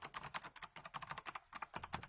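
Rapid typing on a Logitech mechanical keyboard partway through a wireless conversion with its circuit board removed: quick, clacky keystrokes in a steady patter with one brief pause, close and crisp.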